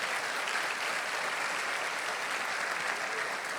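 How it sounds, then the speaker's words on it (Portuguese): Church congregation applause during a service, a dense, even wash of many hands clapping at once, steady and moderately loud for the whole stretch with no voices standing out. "Dê um aplauso, é importante."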